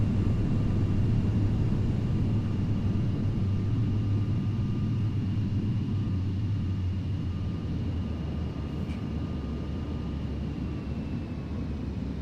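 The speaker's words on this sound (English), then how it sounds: "Thrust reversers." Boeing 737-800 thrust reversers deploying after landing in a flight simulator: a loud, steady roaring rush with a deep drone that eases slightly over several seconds, with no talking.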